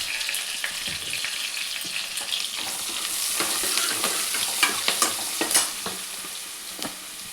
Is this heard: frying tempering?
yes